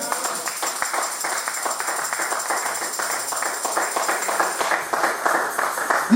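A church congregation claps in a steady rhythm to acclaim the Lord, dense repeated hand claps filling the room at an even tempo, fairly loud and continuous.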